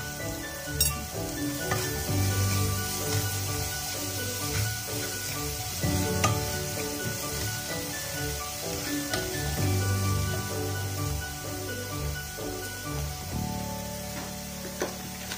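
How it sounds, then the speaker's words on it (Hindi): Onions fry in a pan with a little salt for dal makhani, giving a steady, close sizzle with crackles and occasional stirring scrapes, continuous throughout and with no talking. "प्याज को मैं हल्का सा फ्राई करूंगी"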